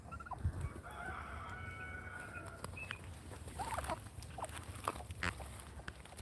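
Chickens cluck and a rooster crows faintly in the distance among a mixed flock that includes a turkey, with scattered calls over a steady low outdoor background and no talking.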